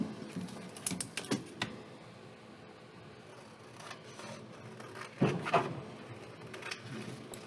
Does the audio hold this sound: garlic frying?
no